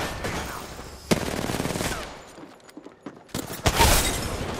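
Kraber sniper rifle shots in a first-person shooter game, sharp loud gunshot bursts with ringing tails, one near the start and more near the end around a quieter stretch, with no talk.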